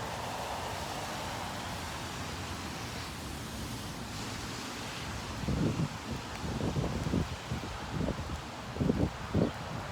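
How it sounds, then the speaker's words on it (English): Rain falls outdoors as a steady, broad hiss, while passing cars on the wet road add low swells of tire and engine noise and louder whooshes over the last few seconds. "still raining"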